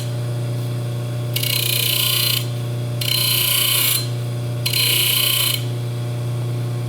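Baldor bench buffer taking a sharp burr off a saw cut in metal, a steady motor hum under three separate bursts of loud, harsh grinding contact, each lasting about a second.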